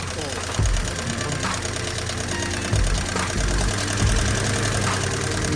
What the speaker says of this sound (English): That little tick-tick-tick-tick-ticking sound, you know? That's a little bit of the noise that we're getting out of this motor right here.